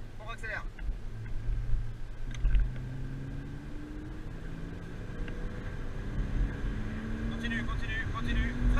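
A 295 hp Porsche Cayman S accelerating hard on a race circuit, its engine note rising repeatedly in pitch through the gears, heard from inside the car with a voice talking over it.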